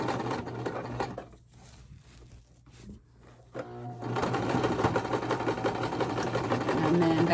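A sewing machine stitches across a thick dish drying mat being shaped into a basket, running in steady bursts with a brief pause and slower section before the motor picks back up, close and loud, with a voice speaking briefly.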